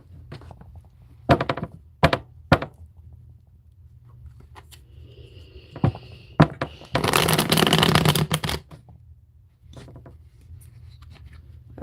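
A deck of angel cards is handled up close: several sharp taps and thunks of cards against a surface, then a dense two-second riffling shuffle, followed by softer rustles in a quiet room with no talking.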